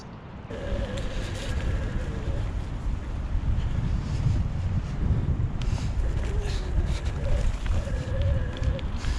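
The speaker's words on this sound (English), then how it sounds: "it's extremely windy" Strong wind buffets the microphone in a continuous low roar that never lets up, with a faint tonal hum drifting underneath, during an e-bike ride.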